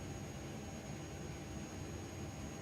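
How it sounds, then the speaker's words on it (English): Airbus A300 jet engines in Microsoft Flight Simulator, a steady broadband whine and rumble with a thin high tone on top, continuous and even for the whole moment, with no talking. "It's crazy how good these engines sound."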